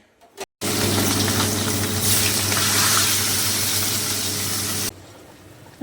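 Fish curry with potatoes at a rolling boil in a pot gives a loud, steady bubbling hiss lasting about four seconds, close up, before stopping abruptly.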